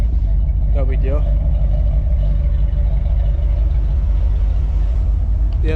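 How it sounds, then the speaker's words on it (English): Several cars idle together after a cold start, among them a C4, filling the space with a steady low engine rumble and hum, close and loud throughout, with a brief voice-like warble near the start. "The other two cars running too."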